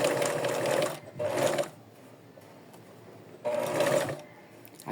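A sewing machine stitches a doll's dress, the sleeve's gathered seam, in loud close bursts: one long run, a short second run, a quiet pause, then another steady run.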